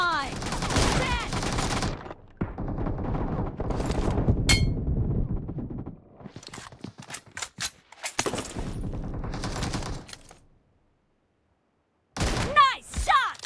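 Rapid automatic gunfire from a BGMI battle royale match, including an M24 sniper rifle, comes in loud dense bursts. The bursts are separated by brief pauses and one silent gap, with voices calling out over the fire.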